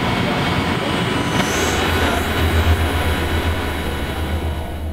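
Power plant generators run with a loud, continuous, broadband roar and steady low hum, a constant mechanical drone nearby with no pauses or talk.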